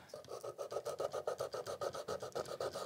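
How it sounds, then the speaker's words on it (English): Sandpaper strip scraping back and forth inside a carved wooden hollow, a steady series of about twenty quick, even rasping strokes, close and fairly quiet with no talking. "So I am going to take a fresh strip of sandpaper."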